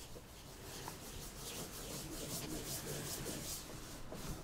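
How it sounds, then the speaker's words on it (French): A leather piece is sanded by hand in a craft workshop, giving a steady close, dry rasping rub of even strokes that continues without pause and with no voices. "le fait de venir faire un ponçage sur la pièce, de cette manière-là"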